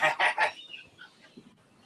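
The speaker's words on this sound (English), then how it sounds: "My cat just heard your bird, Daz." Three loud honking bird calls close by in quick succession, then quieter chirps and faint rustling.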